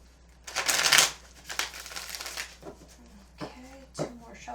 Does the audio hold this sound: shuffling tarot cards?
yes